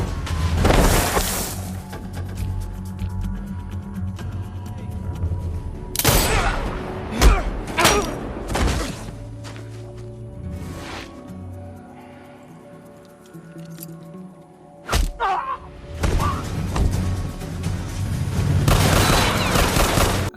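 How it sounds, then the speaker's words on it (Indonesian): Bursts of gunfire in a film shootout, loud sharp cracks in clusters at the start, middle and end, mixed with booms and thuds over a dense dramatic soundtrack. "kemudian terjadilah baku tembak."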